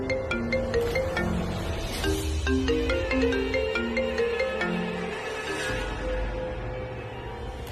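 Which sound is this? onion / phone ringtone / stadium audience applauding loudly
phone ringtone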